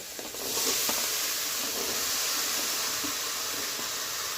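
Cut and washed water lily stems dropped into a hot frying pan, setting off a loud, steady sizzle and hiss that holds close and constant with no talking.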